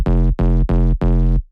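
A synthesizer pluck bass with its second envelope switched off plays four evenly spaced, sustained notes, each starting abruptly and holding before cutting off, loud and alone.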